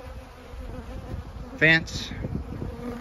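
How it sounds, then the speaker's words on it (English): Honeybees left over from a swarm buzz close by in a steady drone, and a voice briefly speaks over them. "There's a few bees still looking for the rest of the colony, or the rest of the swarm"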